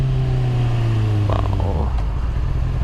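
A Honda CBR650R motorcycle engine drones steadily close by, its pitch sliding down slightly, with a brief clatter partway through.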